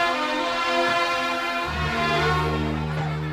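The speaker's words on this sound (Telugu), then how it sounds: "ట్రైన్ వెళ్ళిపోతుంది" A departing train sounds a long, loud horn with steady tones over a deep rolling rumble, heard close and continuous.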